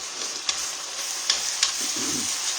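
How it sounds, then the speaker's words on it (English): Ground meat sizzles steadily in a hot pan while a spoon or spatula chops and scrapes through it, with a few sharp taps against the pan over the constant frying hiss. "We're going to scramble it all up, and I like to just chop it up with a spoon or spatula or something."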